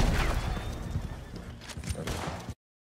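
A horse in the video game Red Dead Redemption 2, heard as a loud, close neigh with hoof clops and game ambience, all cutting off abruptly after about two and a half seconds.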